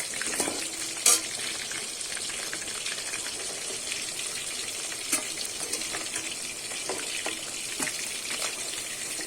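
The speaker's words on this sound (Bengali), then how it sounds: "আমি কিন্তু মাংসটা ভালো কিন্তু করে লাল লাল করে ভেজে নিয়েছি" Large chicken pieces fry in hot oil for a Bengali-style chicken kosha, a steady close sizzle with occasional sharper pops and brief spatula clinks.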